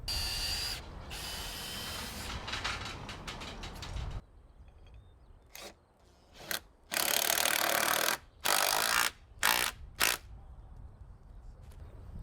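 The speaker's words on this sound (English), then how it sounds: "I'm using a clamp to bring it back into straight" A clamp is being tightened to pull a warped, banana-bent piece of timber straight. Close scraping and creaking comes first, then a series of sharp ratcheting bursts with short pauses between them, and there is no speech.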